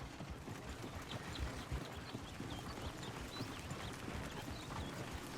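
Horse hooves clip-clop steadily in Red Dead Redemption 2, a continuous trotting rhythm of many quick hoof strikes under a faint high bird-like chirping, with no voices.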